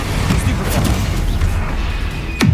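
A spell blast from Hogwarts Legacy, cast as Expulso, gives a booming, crashing burst amid dense battle noise, with a sharp swooshing impact near the end, loud and close.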